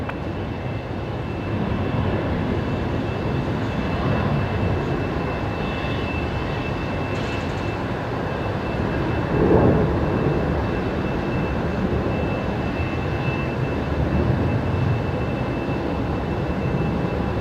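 A steady engine roar from an Atlas Air Boeing 747 during pushback at Brisbane Airport, broad and continuous across the whole stretch with a brief louder swell midway, no talk over it.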